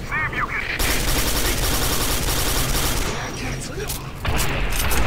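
Rapid weapon fire in Quake 4 rattles out in dense, loud sustained bursts with booming impacts, briefly easing before another heavy volley.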